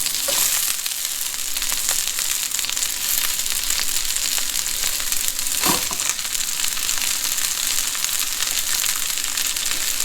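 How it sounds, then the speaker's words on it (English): Cabbage stir-frying in a hot wok for chow fun noodles, a steady loud sizzle and crackle with a brief clatter partway through, no voices. "Now I'm going to put the cabbage in."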